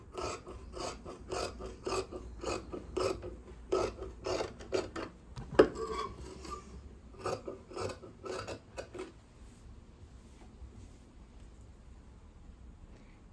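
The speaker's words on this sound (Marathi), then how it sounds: "आता ही बाही आपल्याला कट करून घ्यायची आहे." Scissors cut through blouse sleeve fabric in a rapid series of crisp, close snips, a steady rhythm of short rasping cuts that thins out into a few softer sounds toward the end.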